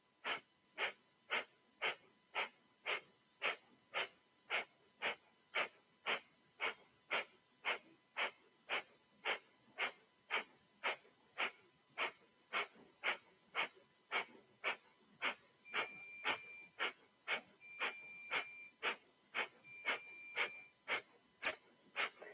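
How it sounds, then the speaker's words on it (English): Rapid, rhythmic breath-of-fire breathing during a Kundalini yoga Ego Eradicator practice, a steady train of sharp nasal exhalations at about two per second, close and even throughout, with a faint high tone entering late. "begin breath of fire."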